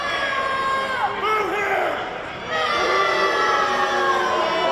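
Wrestling crowd at a live match roaring and jeering, a dense wash of many voices with rising and falling shouts that dips briefly and then swells again.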